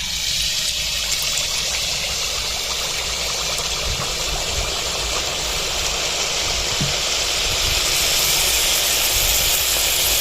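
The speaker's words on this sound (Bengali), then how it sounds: "পিঠা ভাজার জন্য দিয়ে দিয়েছি পরিমাণ মতো তেল। এখন তেলটা গরম হয়ে গেছে" Sweet pua pitha made from wheat-flour batter frying in hot oil: a steady, loud, even sizzling hiss that fills the whole stretch without a break.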